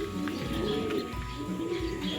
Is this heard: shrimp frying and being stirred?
no